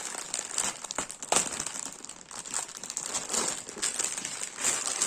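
Plastic packaging around a Harry Potter apron crinkles and crackles close by, with irregular rustling and a few sharper crunches as the bag is handled and opened.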